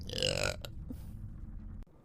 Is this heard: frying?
no